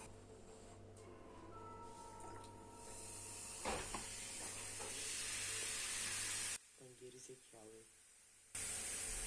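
Vinegar and baking soda fizz and foam over while sodium acetate is made, a steady crackling hiss that cuts out briefly before resuming, with a voice speaking during the gap.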